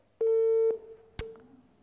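A telephone busy tone after the other party hangs up on a live TV call-in broadcast: a steady electronic beep holding for about half a second, followed by a short click and faint, fading tones.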